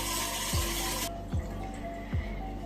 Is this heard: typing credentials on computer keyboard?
no